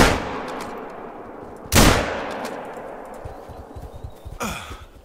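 Rifle shots fired at a charging Cape buffalo in the hunting game The Hunter: Call of the Wild, a loud close shot ringing out, followed by a second sharp shot, with hoof-like thuds in between.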